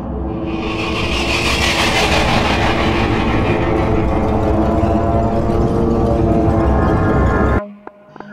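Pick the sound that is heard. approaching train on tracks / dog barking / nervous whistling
approaching train on tracks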